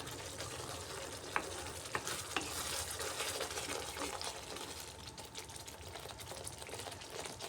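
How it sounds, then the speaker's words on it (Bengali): Spice paste for vegetarian alur dum stir-fried in oil, a steady broadband sizzle with a few sharp spoon scrapes and taps against the pan, close and continuous throughout. "বেশ কিছুক্ষণ সময় নিয়ে এটাকে আমি কষাচ্ছি।"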